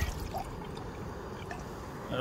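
Water pours into a camping pot outdoors in the woods, a steady close trickle and splash under a soft background hiss.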